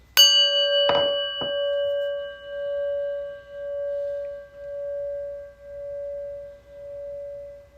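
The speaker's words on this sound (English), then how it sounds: "And our prayer bell." A prayer bell struck once, a sharp clear ding followed by a couple of quick knocks, then a long pure ringing tone that slowly pulses and fades in a quiet room.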